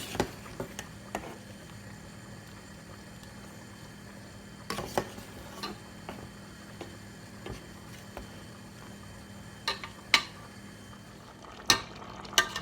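Chicken livers and potatoes get stirred in a pot, producing faint, scattered clicks and scrapes of a utensil against the pan over a soft background sizzle, quiet and irregular.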